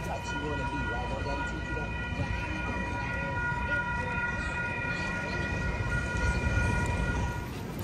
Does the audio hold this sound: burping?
no